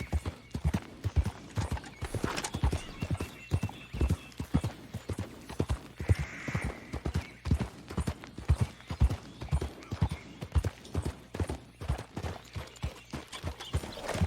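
Horse hooves galloping in Red Dead Redemption 2, a steady rapid clip-clop rhythm of hoofbeats at moderate level running the whole time with no voices.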